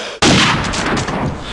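Gunfire in the video game Call of Duty 4 during a competitive match: one sharp, loud shot bursts in after a brief quiet moment, followed by a sustained booming echo and rumble that slowly tails off.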